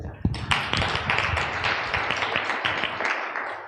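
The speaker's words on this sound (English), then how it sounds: "Give him a round of applause" Applause rises from a summit audience in a conference hall, a moderately loud spread of clapping that holds steadily for a few seconds before thinning out.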